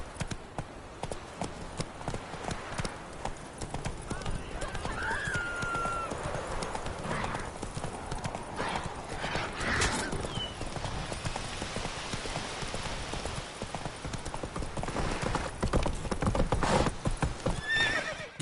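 Horse galloping in the video game The Witcher 3, with rhythmic hoof clip-clop throughout, a neigh, and game voices talking over the hoofbeats.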